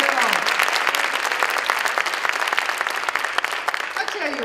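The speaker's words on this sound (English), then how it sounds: "round of applause. They're wonderful." Loud, dense applause fills a gala hall, steady and close, with a voice briefly heard over the clapping near the start and the end.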